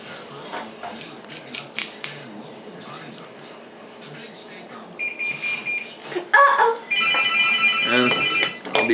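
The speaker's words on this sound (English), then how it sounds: "That's my timer for the video limit, and then the phone's ringing." An electronic timer alarm beeps, and then a telephone rings in repeated bursts during a drone repair session at a workbench. The sounds are fairly close and loud and come over clattering handling noises.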